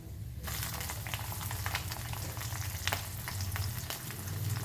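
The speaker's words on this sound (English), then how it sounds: "Then we will add our chilies, green chilies," Green chilies and curry leaves hitting hot oil for lemon rice, a steady crackling sizzle that starts abruptly and keeps going at close range with no voices.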